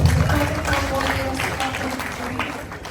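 A church congregation at a gathering in Australia claps for a boy who served in protocol, a steady, dense patter of applause with murmuring voices underneath throughout.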